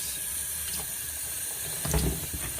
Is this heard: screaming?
no